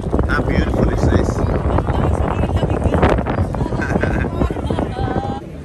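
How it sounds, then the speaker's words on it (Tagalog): Wind gusts buffet the microphone on the Royal Mile in Edinburgh, a loud steady rumble throughout, with people talking in the crowd and street bustle behind. "Tapos nahangin pa."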